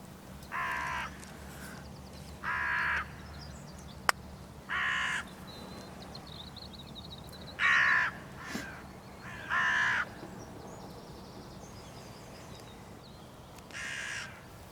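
Hooded crows caw in six separate bursts spread across the stretch, some harsh and loud, others farther off, over a low steady background hum.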